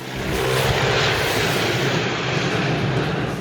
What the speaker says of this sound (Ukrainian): героя Керрі Гранта атакує з повітря літак